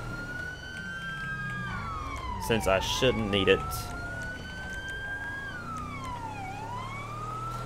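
A Los Santos County Sheriff squad car siren in Grand Theft Auto V on PC, in code 3 pursuit, wails up and down continuously at a moderate level. Someone speaks briefly over it.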